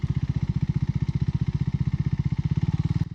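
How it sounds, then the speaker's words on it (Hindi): A Triumph Tracker 400 motorcycle cruising gently in fifth gear through the city, its engine giving a steady, rapid low thumping pulse, close and even throughout. "5th गियर लगा देता हूँ, और मैं सिटी राइड की तरह एकदम हल्का हल्का आराम से चल रहा हूँ"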